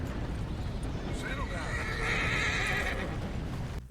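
A horse rears and whinnies in Red Dead Redemption 2, a loud shrill neigh rising and wavering over hoof clatter and steady background rumble, ending abruptly.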